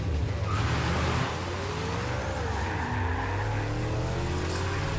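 A Dodge Charger's engine revs and drives along, its steady growl climbing and shifting in pitch as it accelerates, loud and close with no talk.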